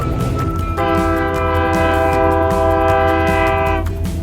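A loud passenger train horn sounds a long, steady multi-tone blast over the deep rumble of the passing train, then cuts off near the end.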